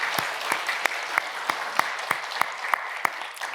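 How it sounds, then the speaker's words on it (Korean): A church congregation claps for the choir leaders after their hymn, a steady patter of applause with regular sharper claps carrying through the hall, moderately loud and with no talk over it. "우리 격려의 박수 한번."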